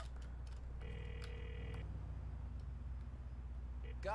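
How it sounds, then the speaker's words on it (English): A phone call rings in the video game GTA 4, a steady electronic ringtone in two bursts over continuous game background sound. "Call Roman."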